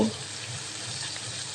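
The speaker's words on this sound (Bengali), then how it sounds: "প্যানের মধ্যে মাছগুলো দেওয়ার পর আমি আবারও প্যানটি একটু নেড়ে চেড়ে তেল সব দিকে ছড়িয়ে দিয়েছি" Small fish frying in oil in a pan, giving a continuous close, dense sizzle with a faint low bubbling underneath, steady and unbroken for the whole moment.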